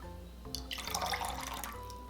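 Water is poured into a pan or bowl for homemade teriyaki sauce, a short soft splashing trickle lasting about a second and a half, heard alone over a faint steady hum.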